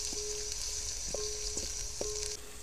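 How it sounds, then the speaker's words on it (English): Onions fry in a pan over a fire, a steady bright sizzle with a few short scraping stirs and a faint tonal whine beneath. "So I'm gonna fry the onions until it turns to golden brown"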